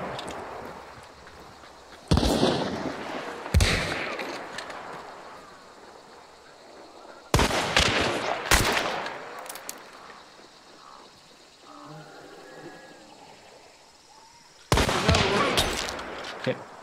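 Gunfire in the video game Hunt Showdown comes as several loud, sharp bursts spaced seconds apart, each followed by a rolling echo over a quiet ambient backdrop.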